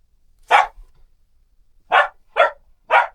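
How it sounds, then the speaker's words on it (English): Pet dog Coco barking indoors, four sharp, loud, close barks: one early, then a quick run of three spaced evenly near the end, with no talking. "She's going to bark at us."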